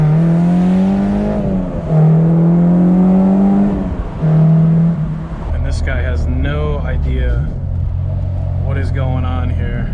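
A Honda Civic Si FG2 with a swapped K24 engine revs hard through rising gear pulls in a launch on a backroad, loud and close, with brief shift dips and a voice talking over the later part.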